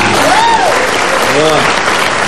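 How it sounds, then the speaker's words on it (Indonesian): A studio audience on a talk show breaks into loud, dense applause, with a couple of rising voices whooping over the clapping for its brief length. "Oke, tepuk tangan."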